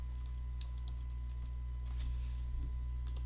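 Someone types on a computer keyboard in short irregular bursts of light clicks, close but fairly quiet over a steady electrical hum.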